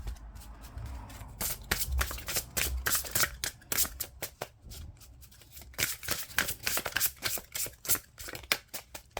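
Goddess Oracle cards being shuffled by hand, close and crisp, with bursts of rapid riffling flutters and soft slaps, pausing briefly then resuming in quick repeated runs, no talking.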